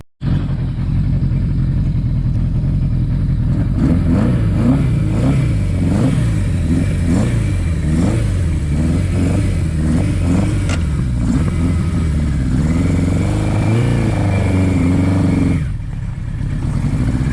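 A 1981 Suzuki GS1000GL motorcycle runs steadily while being ridden down a road, its engine note rising and falling through gear changes with a constant close drone, easing off near the end.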